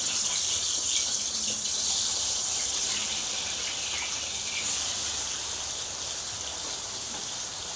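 Turmeric-and-salt water pours steadily into a hot pan with potatoes and teasel gourd, a continuous close gush and splash with no talking.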